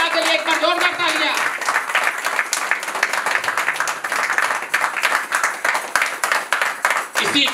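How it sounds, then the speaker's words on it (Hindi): A large audience at a gathering breaks into loud applause, dense sustained clapping that swells and holds, with a voice briefly heard over it at the start. "अपनी सफलता के लिए एक बार जोरदार तालियां।"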